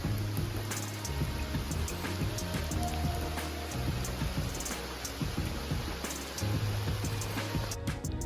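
Steady rain falls on surfaces, a continuous dense patter with scattered sharper drips and taps, close and even throughout with no talk.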